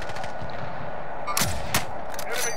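Sniper gunfire in Call of Duty Warzone: two or three sharp, loud shots crack out close together over a steady background hum.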